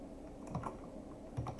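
Quiet clicks of a computer keyboard as code is typed, a few light key taps spaced out over a low room hum, close by.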